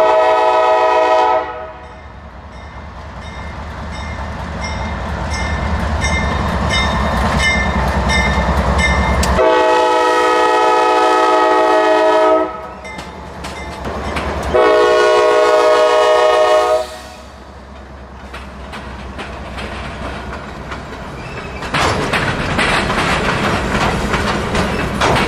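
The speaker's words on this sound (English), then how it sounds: "a new crew is aboard the 885 train, and they're departing to the east with two big GEs pulling" A Norfolk Southern freight pulled by two big GE locomotives departs east near Bellevue, Ohio, pulling a long string of company hoppers. The engines rumble loud and close, and the horn sounds in several long blasts between stretches of heavy engine noise.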